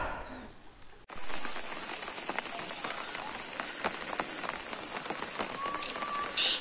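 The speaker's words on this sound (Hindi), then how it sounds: "मैं भीग रहा हूँ बारिश में आपको दिखाने के चक्कर में" Steady rain falls outdoors in the UK, a dense hiss of drops on surfaces that starts abruptly and continues evenly throughout, with a faint bird call near the end.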